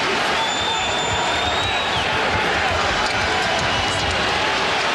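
A packed Denver arena crowd roars steadily through a 2004 NBA playoff game between the Nuggets and the Timberwolves, a loud, unbroken wash of cheering with a commentator's voice faintly over it.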